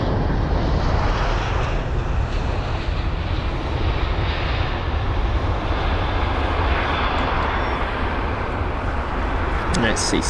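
Airbus A320 airliner at London Heathrow, a steady broadband engine roar holding constant at moderate distance throughout, with a voice talking over it.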